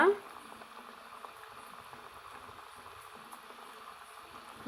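Corn masala vadai fry in hot oil over a low flame, giving a soft, steady sizzle that bubbles on faintly throughout.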